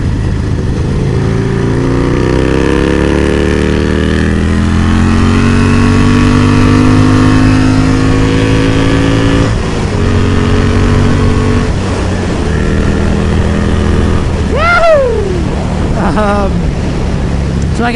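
Harley-Davidson Sportster motorcycle fitted with a Hammer Performance 1275 engine accelerating, its exhaust note rising steadily through the gears with a brief shift around the midpoint, loud and close, with someone talking over it.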